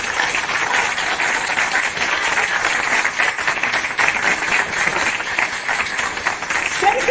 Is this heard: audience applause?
yes